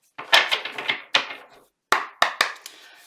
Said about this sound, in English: I want to make sure I get a good shuffle here for you.